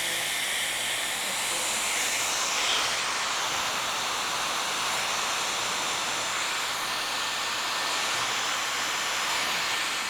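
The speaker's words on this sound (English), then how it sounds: "Because the blow dryer was so hot on my hand" A hot blow dryer fitted with a round brush attachment, smoothing the ends of hair, blowing a steady, loud, airy hiss that runs unbroken throughout.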